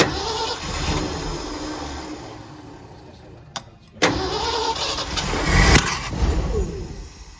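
Engine of a 1979 Ford L-600 service truck, a barn find, cranking and catching for its first start in 17 years, rising into a loud rough run after a brief cutout, with voices nearby.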